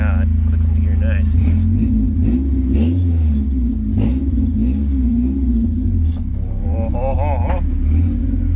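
A Toyota AE86 fitted with a swapped Honda K24 engine idles and pulls away, a steady low rumble with rising revs, loud and close, while people talk over it.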